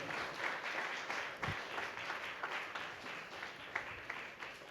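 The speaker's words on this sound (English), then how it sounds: "Bring your hands together in applause of all the devotees who have done a lot of hard work." Audience applause for devotees at a Sri Rama Navami celebration, a steady, moderately distant wash of many hands clapping throughout, fairly quiet, with no speech over it.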